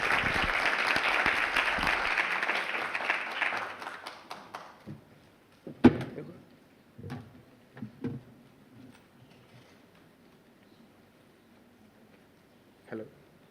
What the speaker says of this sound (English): So please receive them with a warm applause